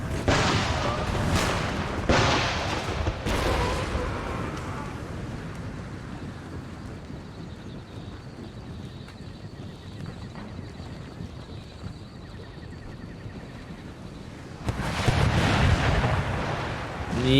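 Artillery fires in an Empire Total War battle: several heavy booms in the opening seconds and another near the end, with a steady wind-like rumble filling the stretch between them.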